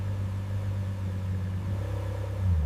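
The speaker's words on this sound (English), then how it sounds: "The engine runs smoothly after full restoration" A restored Lamborghini Gallardo, rebuilt after fire damage, idles steadily with a deep, even engine drone that holds throughout and swells slightly near the end.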